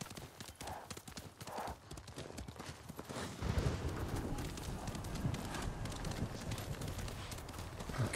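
Hooves clip-clop steadily from a white horse in Ghost of Tsushima, the gait quickening and growing louder partway through, with a brief neigh early on against busy game ambience.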